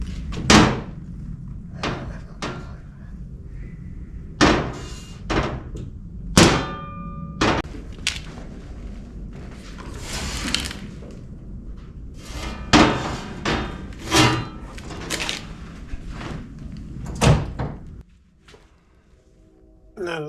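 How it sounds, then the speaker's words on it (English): A homemade aluminum Humvee half door clangs and thumps sharply over and over as it is shifted on loosened hinge bolts, with irregular metallic knocks close by. "I'm just loosening the hinge bolts so I can move the door around and align it."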